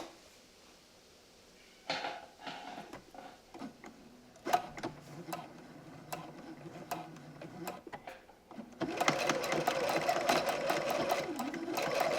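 A sewing machine stitches a folded curtain hem. Scattered clicks and handling knocks of fabric and machine parts come first, then a loud continuous run of stitching fills the last few seconds.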